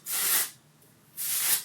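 Hairspray from an aerosol can sprayed onto hair roots, two short hissing bursts close up, each about half a second long, separated by a brief pause.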